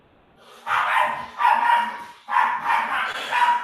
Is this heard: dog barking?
yes